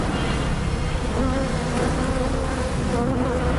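Dense, constant buzzing of a swarm of killer bees close by in Arizona, a loud, unbroken hum with no voices.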